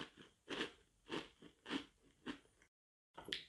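Crunchy Apple Jacks cereal being eaten, a run of close, crisp bites and chews in an even rhythm, with a brief gap of silence near the end.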